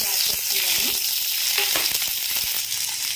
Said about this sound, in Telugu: ఇప్పుడు ఆయిల్ మరిగిందో లేదో చెక్ చేసుకొని ముందుగా మనం కట్ చేసుకున్న ఆనియన్ పచ్చిమిర్చి